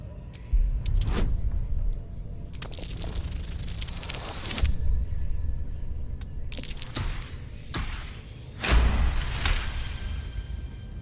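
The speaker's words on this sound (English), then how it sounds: "The lock clicks and opens." A lock in Baldur's Gate 3 clicking open among several brief metallic jangles and mechanical clacks, spaced out in separate bursts over a low rumbling backdrop.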